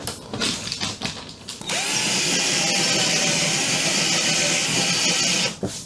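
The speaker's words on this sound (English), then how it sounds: "I can open those holes up a little bit more, I guess, with the drill." After some handling noises, a power drill whirs steadily for a few seconds at close range, widening holes on a small boat, then stops abruptly.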